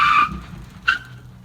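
A car on cheap rotors versus drilled and slotted rotors with performance pads brakes hard to a stop during a brake test, giving a brief sharp tire squeal, then a second shorter chirp as it settles.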